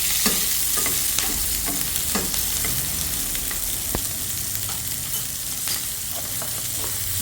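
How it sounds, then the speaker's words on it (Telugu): Green chillies fry in a pan with a steady close sizzle, while a spoon stirs and scrapes through them in irregular knocks; no one speaks. "చూడండి, పచ్చిమిరపకాయలు వేపేసాను నేను"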